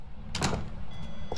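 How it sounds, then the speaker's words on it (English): Door closing in the VR video game Phasmophobia, a short loud sliding swoosh ending in a soft thud, close and alone over a low background hum. "I'm gonna close this door."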